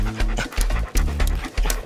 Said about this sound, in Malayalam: അയ്യോ പട്ടി